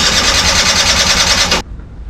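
A Honda Stream's starter motor cranks the engine in a loud, steady whirring grind up close, then cuts off abruptly into near silence.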